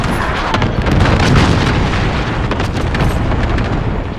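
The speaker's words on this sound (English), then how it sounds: "Allied cruise missile launched." A cruise missile strike in the video game Modern Warfare (2019) gives a loud, sustained booming explosion with heavy low rumble and crackling debris, rolling on steadily for several seconds without voices.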